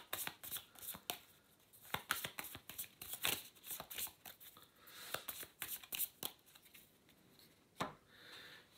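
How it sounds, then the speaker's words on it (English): A deck of playing cards is shuffled close up during a solo tabletop card game, giving repeated crisp riffling snaps and flutters in quick irregular bursts, with no voices. "Deck is shuffled."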